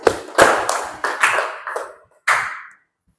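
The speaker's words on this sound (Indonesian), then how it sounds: "tepuk tangan untuk Susi." Children in a classroom clap in several short bursts of applause, each fading quickly, with a brief pause before a final burst, close and fairly loud.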